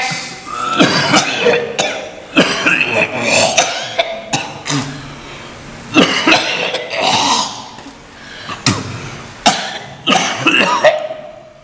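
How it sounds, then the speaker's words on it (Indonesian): A person coughing loudly and harshly during a spiritual healing session, with about a dozen forceful, close bursts in irregular clusters and brief raspy breaths between them. "Batuk yang keras"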